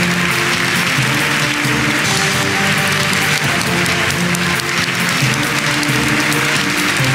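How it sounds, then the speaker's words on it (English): A large award-ceremony audience applauds and cheers, a dense, steady roar of clapping that holds at full loudness throughout with no break. "I'm expecting a rowdy cheer, okay?"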